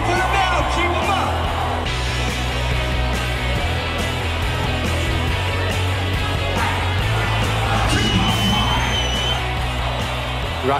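Crowd in a biker saloon cheering, whooping and yelling over a loud steady din, with someone talking over the noise.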